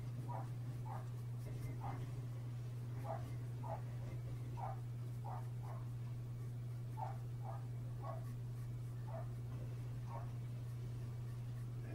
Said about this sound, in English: And my Molly's barking up there